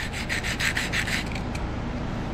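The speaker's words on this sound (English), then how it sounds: "Light sanding down here." Quick back-and-forth rasping strokes of sandpaper on a rusty TOPS Wild Pig Hunter knife blade, about seven in a row, close and fairly loud, then trailing off.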